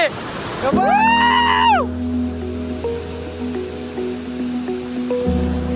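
Loud, steady roar of a monsoon-season waterfall fills the scene from close range, with a brief rising whistle-like tone early on and a person talking over the constant rush of water.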